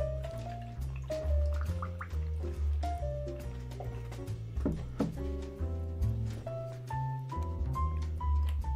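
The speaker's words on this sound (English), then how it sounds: "now we're going to pour this drink into the glass" A shark bite cocktail poured into a glass, with splashing, gurgling liquid and drips over several seconds while tonal clinks ring out; no voices present.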